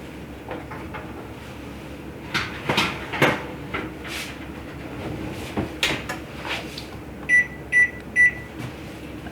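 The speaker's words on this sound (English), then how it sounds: "while I've got the oven open, I'm going to put my next millet pudding right into the water bath" Knocks and clatters ring out as an oven door opens and a dish of millet pudding is set into a water bath, followed by three short electronic beeps from the oven near the end.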